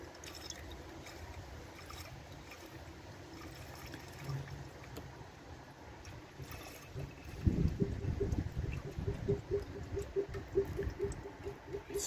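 Coolant pours into the engine of a 2015 Chevy Cruze during a thermostat assembly replacement, a steady liquid trickle over low background rumble that grows louder and fuller in the second half.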